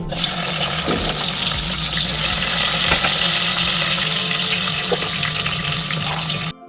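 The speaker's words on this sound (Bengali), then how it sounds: "এখন তেলের মধ্যে পেঁয়াজ দিয়ে দিচ্ছি" Onions are dropped into hot oil with whole cumin seeds and fry with a loud, continuous hiss and sizzle that holds steady before cutting off at the end.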